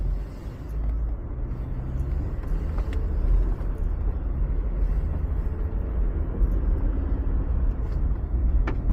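A car rolls slowly along a leaf-strewn residential street in Cleveland Heights, giving a steady low rumble and road hum from inside the cabin, with a few faint clicks and no talking.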